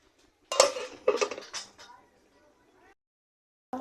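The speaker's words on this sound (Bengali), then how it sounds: "এখন আমি ঢাকনা দিয়ে দিব।" A metal lid goes onto a cooking pot on the stove in a few close clattering clanks and scrapes, then quiet, with a final knock at the end.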